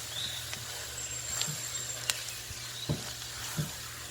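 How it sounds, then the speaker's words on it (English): A flour thickener cooking in a pot for mulligatawny soup, giving a faint, steady low sizzle with a few soft stirring scrapes and taps, close but quiet, with no talk. "we want to stir and continue cooking so all the flour gets thoroughly cooked"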